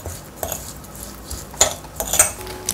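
A spoon mixes sesame oil, minced garlic, chopped scallion, ground sesame and seasoned salt in a bowl, making soft scraping and a few light clinks against the dish, close and fairly quiet.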